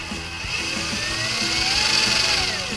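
Electric motor of a Tamiya Frog RC car run on throttle on the bench, a steady close whine with rising and falling pitch sweeps, alone without talk.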